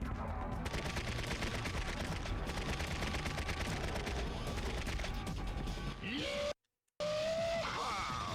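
Shotgun and weapon fire in Serious Sam: Next Encounter on GameCube, a dense continuous barrage of blasts and explosions that cuts out briefly before resuming loudly.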